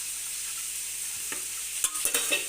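Onions sauté in a hot pan with a steady, bright sizzle. A few quick stirring scrapes come close together toward the end, with no voices.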